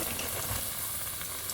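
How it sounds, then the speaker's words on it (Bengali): Soybean and potato veggie nuggets fry in hot oil, a steady dense sizzle and hiss that holds at an even level throughout, close and continuous with no voices. "আমাদের নাগেটস ভাজা হচ্ছে, পরপর আমরা ভেজে দিচ্ছি"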